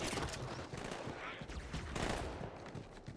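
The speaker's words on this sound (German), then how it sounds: "Ich frage mich, die schießen hier immer noch." Rapid video-game gunfire in Halo 2 Anniversary, a dense fusillade of overlapping shots and bursts, fairly faint and continuous over a few seconds.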